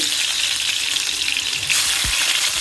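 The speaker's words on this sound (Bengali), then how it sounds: "তেল গরম হয়ে গিয়েছে, এখন আমি একে একে মাছের পিসগুলো দিয়ে দিচ্ছি" Hilsa fish pieces go into hot oil and set off a loud, continuous crackling sizzle that swells slightly as another piece is dropped in near the end, without any speech.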